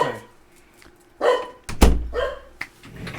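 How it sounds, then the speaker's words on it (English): Several indoor dogs bark in sharp bursts, a few loud close barks and yips spread over a few seconds with a thump among them, in a home during a podcast recording. "Dogs are gonna keep barking."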